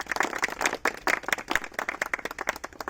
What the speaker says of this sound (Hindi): मैं चाहता हूं उनके लिए एक बार जोरदार तालियां होनी चाहिए।